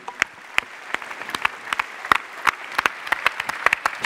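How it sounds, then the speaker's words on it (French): Applause for award winners at an evening awards ceremony, a crowd clapping steadily with sharp individual claps standing out, moderately loud and continuous. "vous pouvez les applaudir"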